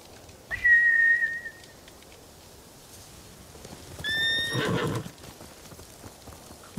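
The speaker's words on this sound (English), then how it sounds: "They're samurai mounts, trained to return to their masters." Samurai horses in Ghost of Tsushima give two whistling neighs, the first long and steady, the second rising and shaky, with a burst of hoof noise under the second and quiet ambience between.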